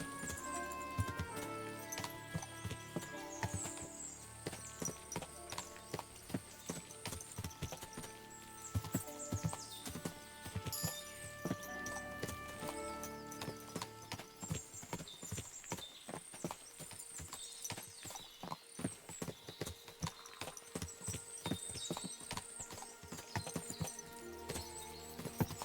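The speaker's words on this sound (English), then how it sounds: "What a lot of horses!" Horses clip-clopping in the medieval game Kingdom Come: Deliverance II, a steady patter of hooves in the near distance with occasional neighs, set beneath continuous orchestral game music.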